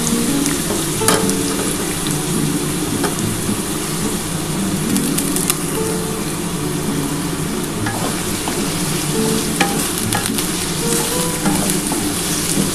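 Potatoes fry in a pan with a loud, continuous sizzle and occasional scraping from stirring, close up and with no voices.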